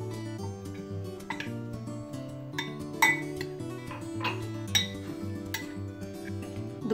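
Spoon clinking and scraping around a bowl while desiccated coconut is stirred into milk, with a run of irregular close, light taps and rattles over a faint background hum.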